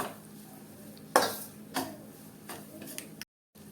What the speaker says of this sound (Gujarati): ઘીમાં લોટ શેકાઈ રહ્યો છે જોઈ શકાય છે અને ઘી થોડું થોડું છૂટું પડી રહ્યું છે